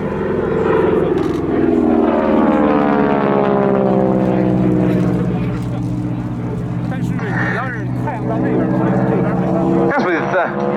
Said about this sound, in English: Peter Typhoon, with the Hangar 11 Collection's North American P-51D Mustang